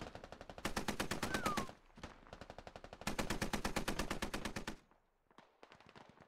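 A .50 cal machine gun fires in the video game Squad, in long sustained bursts of rapid, evenly spaced shots with brief pauses between them and a short scattered stretch near the end, fairly quiet overall.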